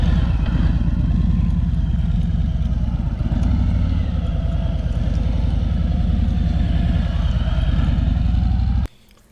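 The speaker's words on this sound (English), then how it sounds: "just whipping that bike around like nothing" A heavyweight motorcycle's engine drones loud and steady at close range as it is ridden and maneuvered, the rumble holding almost unbroken before cutting off abruptly at the very end.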